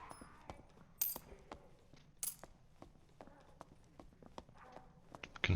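Faint clip-clopping footfalls of another player moving on the floor above in the Dark and Darker video game, irregular and muffled amid scattered clinks and game noise.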